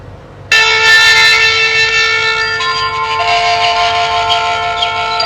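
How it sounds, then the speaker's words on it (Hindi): A recorded conch shell blast from an aarti app, one loud sustained tonal blow that holds steady for several seconds, bright and close. "शंख पे अगर आपने इसे रखा तो फिर से आपको शंखनाद सुनाई देगा"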